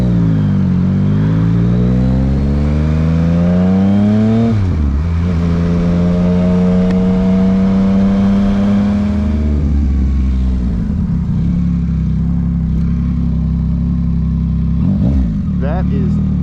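A 2023 Yamaha MT-09 in power mode 1, just broken in, accelerates hard: loud, close engine revs climb steeply, dip at a gear change, climb again and settle into a steady high drone after another shift.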